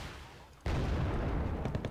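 Gunfire from a PC war strategy game, Wargame: Red Dragon, firing at helicopters: a dense, continuous burst of rapid shots begins abruptly partway in and stays loud to the end.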